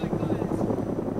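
A helicopter in the video game DayZ chops loudly overhead as it comes in to land, a brief rotor thrum with excited voices talking over it.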